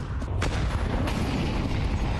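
A grenade goes off at Banana in Counter-Strike 2 during a major tournament match, a deep, continuous rumbling boom with sharper bursts breaking through a dense low roar.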